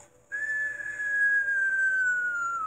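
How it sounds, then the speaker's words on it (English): Cartoon falling whistle sound effect, a single loud sustained whistle tone that starts suddenly and slowly glides downward in pitch over a couple of seconds. "I heard this cartoon falling sound like a whistle"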